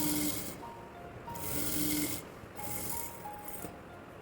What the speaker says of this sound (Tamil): இப்போ நான் அதை மடித்து தைக்கிறேன்.